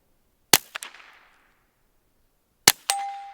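Two sharp, loud shots from a handgun fitted with a green laser and light combo, each followed by a metallic clang and ring from a low steel target, spaced a couple of seconds apart.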